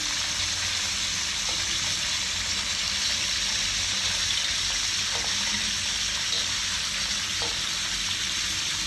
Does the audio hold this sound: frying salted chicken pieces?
yes